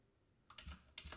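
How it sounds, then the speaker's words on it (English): A few slow, hesitant computer keyboard keystrokes, close and crisp, in two short clusters after a quiet pause. "You can tell I have like 2 words per minute as my type speed."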